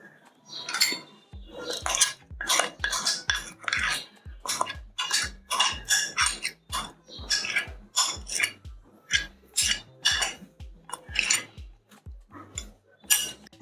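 Hands work masala into tandoori chicken, making a rhythmic run of wet squelching strokes with an occasional light knock against the bowl, close and regular with no talk.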